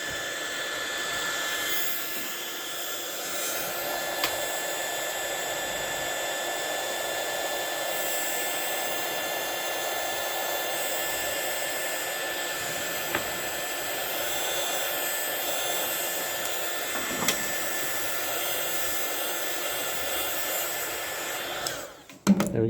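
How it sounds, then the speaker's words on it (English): A small heat gun blows hot air steadily to shrink heat-shrink tubing on a caravan cable, a continuous hairdryer-like whoosh with a faint whine held for about twenty seconds before cutting off abruptly at the end. "And then just a little heat gun. Just more like it's like a hairdryer, but it's for heat shrink."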